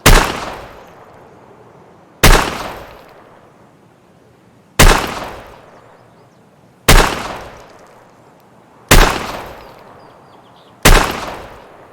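Six evenly spaced Chiappa Rhino .357 Magnum revolver shots in the Escape From Tarkov video game, each a loud sharp crack with a long fading tail, about two seconds apart.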